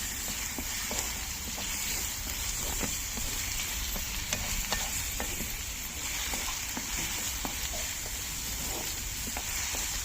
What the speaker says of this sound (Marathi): कांदा छान आपल्याला गुलाबी रंगावर परतून घ्यायचा आहे